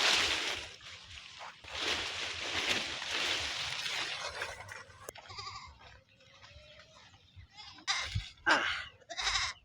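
Pet goats bleat in several loud, close calls, with other rustling and sloshing sounds between the cries.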